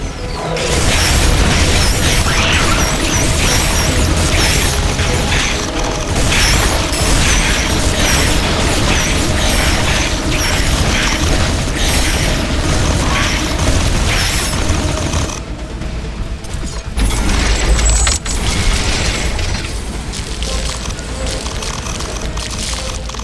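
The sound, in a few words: explosions of base buildings under attack, from video game The Riftbreaker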